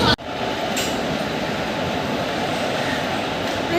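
An express train running from Kacheguda to Puducherry pulls into an Indian railway station, giving a steady loud rumble and rush of wheels on rails after a brief sharp knock at the start.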